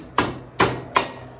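Three sharp metallic hammer taps, evenly spaced and close, driving the wheel axle out of a 2008 Honda Shadow Aero 750 shaft-drive motorcycle.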